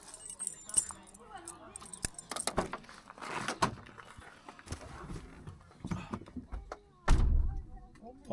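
Keys jangle as they are pulled from a backpack, a series of bright metallic rattles and a few thumps, close by, with voices in the background.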